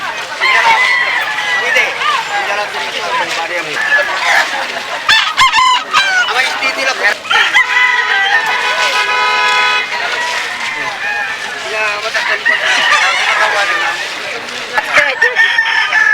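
Bantam roosters crow repeatedly through a busy, noisy market, with people talking throughout and other birds and traffic in the background.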